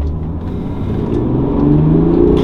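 A BMW E90 LCI 330d diesel with a manual gearbox accelerates hard in second gear on a clear straight road, its engine a loud, steady low drone that climbs gradually in pitch, heard from inside the car without talk.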